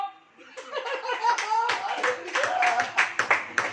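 A church congregation claps during a Hindi sermon, scattered uneven hand claps mixed with chuckles and murmuring voices, moderately close and growing denser toward the end.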